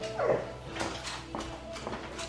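A pet dog named Oupi gives a short whimpering yip early on, followed by faint shuffling and soft movement in a family home, with no clear speech.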